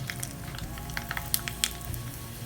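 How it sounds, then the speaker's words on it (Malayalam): Mustard seeds splutter in hot coconut oil, tempered for a Kerala sadya pineapple pachadi, with a soft, steady sizzle and scattered small sharp pops up close. "കടുക് പൊട്ടി വരുമ്പോൾ ചുവന്ന മുളക്,"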